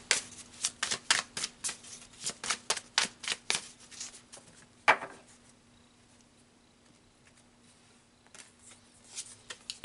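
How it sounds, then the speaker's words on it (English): Tarot cards are shuffled and pulled, giving a fast run of crisp riffling flicks that stops in a sharp slap, then a few faint, scattered card taps. No one speaks. "So let's pull some more cards."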